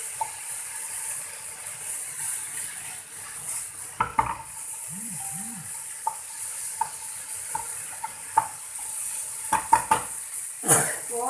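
Mushrooms being stir-fried in a pan for a spicy Isan-style krapao, a constant sizzle with scattered spatula scrapes and knocks on the pan, plus a brief voiced sound midway.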